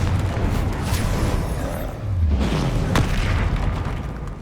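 Confringo spell blast in Hogwarts Legacy, a loud booming explosion rolling over dense game noise and lingering as a heavy rumble through the short stretch.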